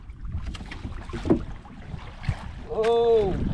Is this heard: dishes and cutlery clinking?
no